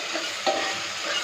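Onions and tomatoes sizzling in oil for chicken biryani, a continuous hissing fry with one brief soft stir of a spoon, close and moderately loud, no voices.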